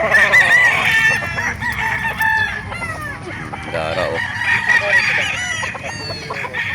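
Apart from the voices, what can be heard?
roosters crowing and clucking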